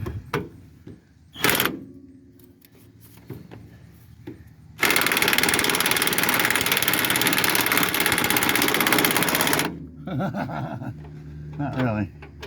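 A pneumatic impact wrench runs in one sustained burst of about five seconds on the right front shock absorber bolt of a 1969 Cadillac Fleetwood, close and loud, with someone talking and brief clanks of tools before and after.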